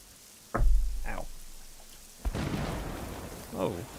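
Thunder booms and rumbles through a rainstorm in the video game Generation Zero: a heavy low crack, then a smaller one, later a longer noisy roll and a final rumble, over a soft rain hiss.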